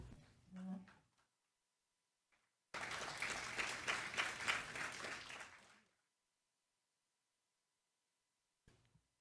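An audience at a public hearing breaks into a short burst of applause lasting about three seconds, moderately loud against an otherwise quiet room, preceded by brief speech.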